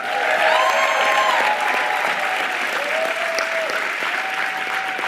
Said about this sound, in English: let's give another round of applause for all the award winners.